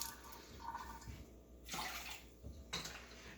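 Water is poured into a measuring cup, nearly two cups for making oatmeal, in a few short, soft splashing bursts with quiet pauses between them.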